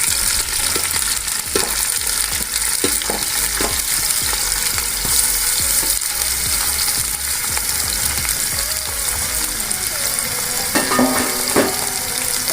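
Tomatoes and green chillies hit hot ghee with a loud, dense, continuous sizzle close up, with scattered clinks and scrapes of stirring throughout and no voices.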